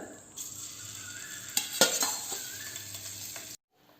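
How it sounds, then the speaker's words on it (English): Boiled eggs frying and being stirred in a pepper masala gravy, a steady close sizzle with a few sharp scrapes of a spoon against the pan, then a sudden cutoff to near silence. "Our egg is nicely getting fried."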